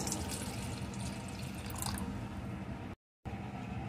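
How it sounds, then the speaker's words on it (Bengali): One cup of water is poured into a pot with a steady close splashing gush for about three seconds, then a short break, then more trickling. "এর ভিতরে প্রথমে আমি দিয়ে দেবো 1 কাপ পরিমাণ জল"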